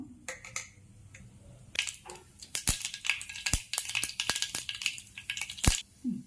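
Sharp popping and crackling bursts of mustard seeds spluttering in hot oil, irregular and close, growing busier toward the end.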